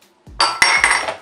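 Minced meat and onions being mixed in a salad bowl, giving a short burst of clinking and scraping of utensil against the bowl, with two sharp knocks within about a second of brisk stirring.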